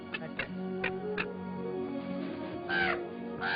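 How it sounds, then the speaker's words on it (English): Crows caw repeatedly in a field, several harsh calls spaced irregularly over a dense, steady background of music. "I can't even scare a crow."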